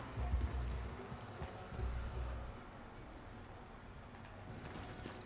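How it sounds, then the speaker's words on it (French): Horse hooves clip-clopping in the video game Red Dead Redemption 2, soft muffled footfalls in a loose rhythm under a low background rumble. "Il y a un cheval là."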